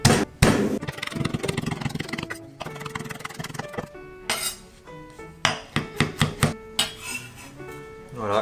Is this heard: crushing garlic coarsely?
yes